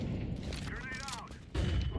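A grenade goes off in a tactical shooter video game amid a chaotic mix of other bursts, with a loud, heavy blast landing near the end after a brief lull.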